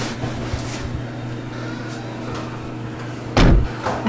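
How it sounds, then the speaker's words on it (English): Delivery truck door shutting, heard from inside a box fort loaded in the cargo area: a single heavy thud near the end over a steady low engine-like hum, with a few fainter knocks earlier. "I think that's the truck door closing."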